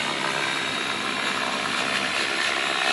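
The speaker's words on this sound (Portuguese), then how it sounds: "não tem problema de se pilotar um helicóptero rádio controlado. Está voando aí de banda" Radio-controlled helicopter in flight, its engine and rotor giving a steady, dense broadband whir at constant loudness with no talking.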